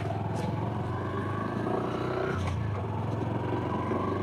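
Honda Super Cub motorcycle pulling away in first gear at night, a close, steady low engine putter with a brief shift in pitch midway.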